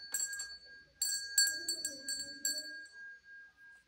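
A child rings a small bell several times in quick succession, the clear tinkling rings close and fading out at the end.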